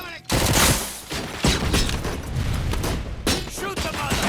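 Rapid bursts of gunfire in the video game Robocop: Rogue City, loud and continuous, with shouted voices and combat noise layered over the shooting.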